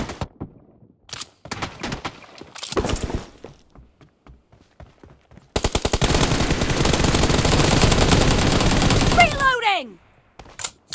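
M416 rifle fire in a team deathmatch video game: scattered single shots and short bursts, then a long, loud sustained automatic burst for several seconds, followed by a descending whistle-like effect, with speech in between.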